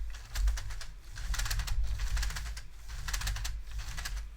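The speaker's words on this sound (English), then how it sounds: "So you can hear the engine clicking." Motorised engine of a Lego Technic Porsche 911 GT3 RS model clicking rapidly in a continuous rattling patter, close and moderately loud with faint low hum underneath.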